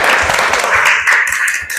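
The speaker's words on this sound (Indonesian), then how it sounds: "Tepuk tangan buat Mbak Arum." A class applauds a student: a short, loud spell of mixed clapping from a roomful of people, with an uneven rhythm of overlapping claps.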